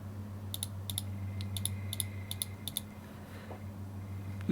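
Mute group buttons on a digital live-sound mixing console are pressed in a series of sharp, close clicks, about eight spaced taps over a steady low electrical hum.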